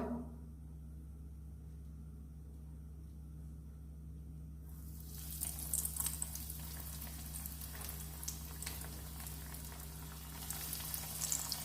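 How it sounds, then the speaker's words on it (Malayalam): Meat rolls dropped into hot oil for deep frying, a steady hiss of bubbling oil that swells into a louder crackling sizzle partway through, heard close and alone over a low background hum. "ഇനിയും ഇതൊരു ചൂടായ എണ്ണയിലേക്ക് ഇട്ട് നമുക്ക് ഫ്രൈ ചെയ്തെടുക്കാം."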